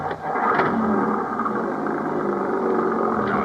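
A car engine runs close and loud with a steady whirring drone, rising gently as the vehicle pulls away, staged as a radio drama sound effect with no talking over it.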